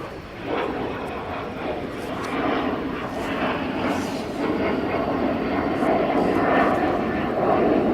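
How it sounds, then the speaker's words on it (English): A fixed-wing airplane passes overhead, its broad engine roar swelling steadily and staying loud and continuous throughout, with no one speaking over it. "I don't know if you guys are hearing that airplane"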